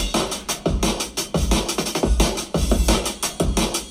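Unfiltered drum break, full-range and punchy, with deep kicks, snares and busy hats looping in a fast, dense groove at close, loud level.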